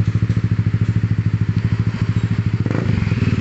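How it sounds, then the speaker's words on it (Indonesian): A Yamaha Aerox 155 scooter fitted with a long 30 cm racing exhaust with a dB killer runs loud and close, its engine thumping in a fast, even pulse that turns rougher and busier near the end, with no voices. "Terima kasih untuk Yamaha Aerox New. Suara adem banget ya."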